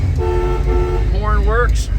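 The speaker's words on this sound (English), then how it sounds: "Horn works." The horn of a 1966 Chevrolet Nova Super Sport sounds two loud, steady honks close by, followed by a brief voice.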